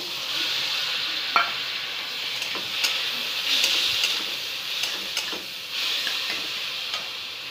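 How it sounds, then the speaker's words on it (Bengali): Washed red lentils sizzle in a hot pan with onion and green chilli as a spoon stirs them, giving a soft steady frying hiss with scattered light scrapes and ticks close by. "এখানে ধুয়ে রেখেছি মুসুরের ডাল এক বাটি, এটা দিয়ে দেবো।"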